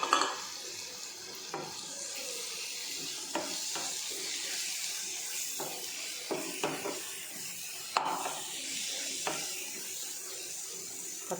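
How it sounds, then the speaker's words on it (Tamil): Tomatoes sauté in a pan with a quiet, steady sizzle for a biryani gravy. Repeated clicks and scrapes of a spoon against the metal pan come at an irregular pace as the pan is stirred, with no talking. "தக்காளியும் நல்லா அதோடு சேர்ந்து நல்லா மசியட்டும், அந்தளவுக்கு நல்லா வதங்கணும்."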